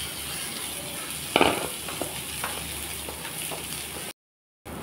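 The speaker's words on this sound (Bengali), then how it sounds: "কড়াইতে দিয়ে দিলাম সামান্য সরষের তেল। এখন ডালটা একেবারে হালকা করে ভেজে" Mung lentils frying in a little mustard oil in a wok give a steady close-up sizzle with a sharp burst of crackle about a third of the way in, then a brief silence near the end.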